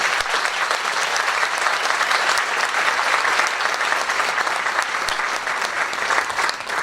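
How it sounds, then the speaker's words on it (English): A crowd at a TASTE for Education fundraising evening applauds its sponsors with steady, dense clapping that holds at an even, loud level for several seconds without pause. "If we could have a round of applause for the sponsors."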